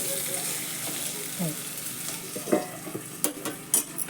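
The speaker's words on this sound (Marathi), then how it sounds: "मध्ये मध्ये झाकण काढून जरा हलवायच्या नाहीतर मग ती एक बाजू करपली जाते" Green chillies fry in a hot pan with a steady, close sizzle, while stirring adds scraping clatter and sharp knocks that grow more frequent toward the end.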